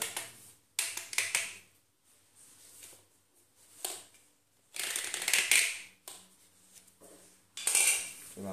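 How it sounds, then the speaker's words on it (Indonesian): A cutter knife scrapes and cleans the end of a PVC pipe in several short bursts of sharp, close scraping and clicking, with quiet gaps between the strokes. "Lalu kita bisa membersihkannya dengan menggunakan cutter."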